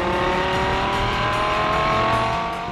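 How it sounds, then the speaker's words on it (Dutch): A 2013 Lamborghini Gallardo LP 560-4 V10 engine revving loudly and steadily, a dense close roar with a rising and falling pitch and no talk over it. "Ik denk eigenlijk dat zo'n V10 gewoon lekkerder klinkt dan een 8-cilinder."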